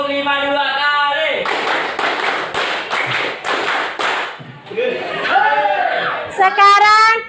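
Classroom students clap a counted pattern, a run of sharp sharp claps repeated in two groups of five, loud and close, with chanting voices and children's talk before and after.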